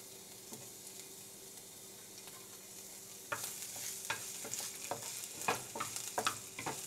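Garlic and onion sautéing in oil in a pan, a steady soft sizzle that jumps louder halfway through as the ingredients hit the oil, with spatula scrapes and stirring clicks.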